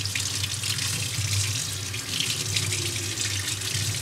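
Mangoes are washed under a running tap, a steady, close rush of water into a sink with small splashing shifts as the fruit is moved around in the stream.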